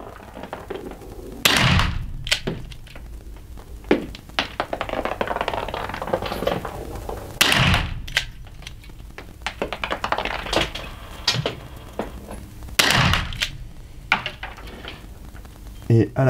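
A GS50 Gunsmith rubber-ball defense gun is fired at a target nine metres away during a precision test. Several sharp, separate shots ring out over about sixteen seconds, set against quieter handling sounds and a little background noise.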